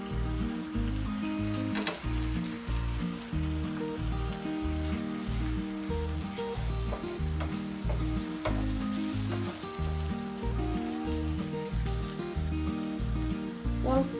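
Garlic and fried onions sizzle loudly in a hot pan for egg korma, a dense crackling fry with rhythmic stirring scrapes throughout, near and steady with no talking.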